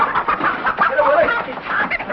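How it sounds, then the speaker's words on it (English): A chicken clucks indoors in short agitated bursts, close and fairly loud, mixed with people talking over it. "Get that chicken out of here."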